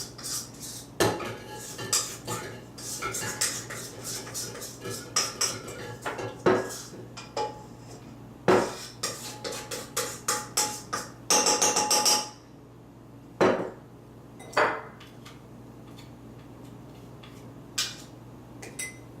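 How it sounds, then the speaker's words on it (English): Scraping down the sides of a mixing bowl with the mixer stopped while making chocolate chip batter, heard as close, irregular clatters and scrapes of utensil against bowl, with brief busier bursts and short pauses and no voices. "Stop the mixer to make sure all the ingredients are cleaned off the sides, so they're all mixed together properly."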